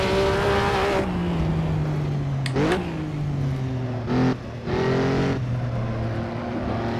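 A historic 1950s Formula 1 race car circles Aintree in the Assetto Corsa racing game, its engine droning steadily and dropping in pitch through gear changes, with brief sharp revs and shifts, loud and alone.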